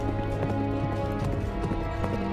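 Horse galloping toward the listener, rapid rhythmic hoofbeats clip-clopping loudly and close over a steady background, with no talking.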